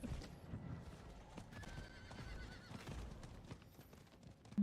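Horse galloping in Diablo IV, a steady patter of hoofbeats under a rumbling game background, with a drawn-out neigh rising midway through.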